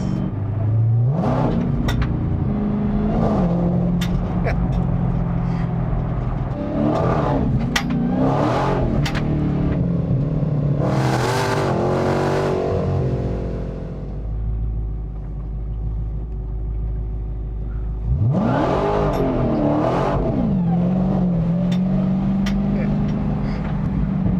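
A 2023 Dodge Demon 170 pulls away from a light, its engine rising in several loud, close revving surges with a low idle rumble between them, while someone talks over the engine noise.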